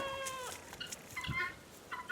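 Penned turkeys gobble and call in short warbling bursts, moderately distant and faint, with a few overlapping calls from the pen on a farm.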